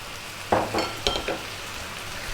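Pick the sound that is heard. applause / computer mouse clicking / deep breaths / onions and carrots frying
onions and carrots frying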